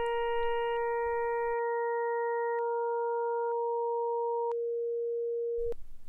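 Synthesized trumpet waveform built from stacked sine partials, played back as steady tones while the upper partials drop out one by one, leaving a thinning pure tone before a brief fuller return at the end; no talking.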